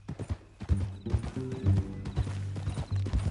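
Horse hooves clip-clop in a steady uneven rhythm, close and fairly loud, with heavy thuds on the ground throughout.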